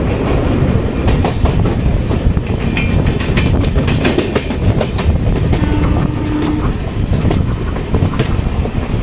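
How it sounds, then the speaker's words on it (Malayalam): Bangalore–Kanyakumari Island Express train passing close by, a loud continuous rumble of railcars with rhythmic clickety-clack from the wheels over rail joints and faint squeals, steady throughout. "ബംഗളൂരു കന്യാകുമാരി ഐലൻഡ് എക്സ്പ്രസ് ആണ്."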